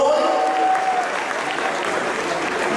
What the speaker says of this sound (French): applaudissements s'il vous plaît pour le club Stockard